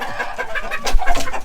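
Olive egger roosters and hens, Americana Easter egger crosses, clucking close up in a short, busy burst of overlapping calls.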